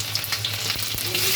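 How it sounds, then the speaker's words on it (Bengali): Garlic sizzling in hot oil, a close, bright crackling hiss that holds steady for a moment, with a faint scrape of a utensil, and no voices. "তেল গরম হয়ে গেছে, এবার আমি তেলে দিয়ে দিচ্ছি রসুন,"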